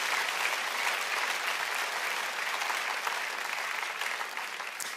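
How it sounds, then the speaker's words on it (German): Congregation at a Sunday morning church service giving sustained applause, a dense even roar of many hands clapping, loud and unbroken across the whole stretch. "Ich finde, wir sollten ihm mal richtig einen mächtigen Applaus heute Morgen geben"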